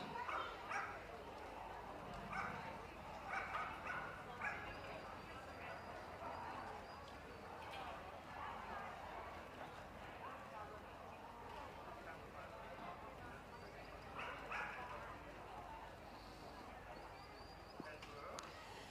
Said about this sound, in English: The King Charles Spaniel